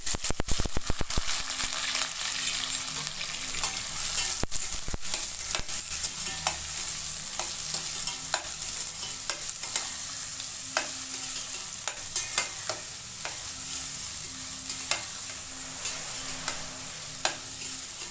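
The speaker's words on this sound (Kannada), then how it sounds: "ಈಗ ಎಣ್ಣೆ ಕಾದಿದೆ ನಾನು ಈರುಳ್ಳಿ ಹಸಿಮೆಣಸಿನ್ಕಾಯಿ ಸೇರಿಸ್ತಾ ಇದ್ದೀನಿ" Onions and green chillies fry in hot oil for a village-style zunka, giving a steady close sizzle with regular scraping stirs throughout and no talking.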